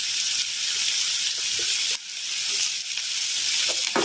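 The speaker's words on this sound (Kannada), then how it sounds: "ಇದಕ್ಕೆ ಫ್ರೈ ಮಾಡ್ಕೊತಿರ್ಬೇಕಾದ್ರೆ ಹಾಗೆ ಸ್ವಲ್ಪ ಕರಿಬೇವು ಆ್ಯಡ್ ಮಾಡ್ಕೊಳ್ಳಿ" Curry leaves fry in hot oil in a pan for mango chitranna, giving a loud, steady sizzling hiss close up with a few small crackles, and no voices.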